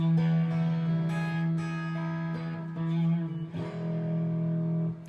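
A sustained chord rings out on a guitar with a slightly buzzy, effected tone, strummed again partway through and left to ring.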